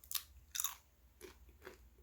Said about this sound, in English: It's going to crunch a little bit differently than a potato chip would.